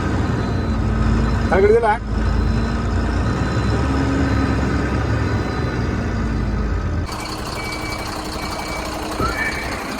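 A vehicle being moved, its engine rumbling close by while a voice talks, then a clear repeating reversing beep sounds toward the end.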